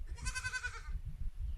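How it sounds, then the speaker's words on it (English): Goats bleating on a homestead, a single wavering, pitched bleat lasting under a second, close and clear over low outdoor rumble. "Do you see the goats? Freddy loves the goats."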